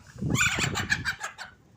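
Chickens in a home farmyard give a quick burst of several clucks, close and fairly clear, lasting under two seconds.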